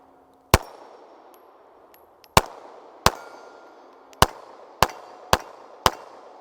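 A Steyr M9-A1 pistol fired at a target: seven sharp, loud shots at uneven intervals, each followed by a brief ringing decay, with no talk over them.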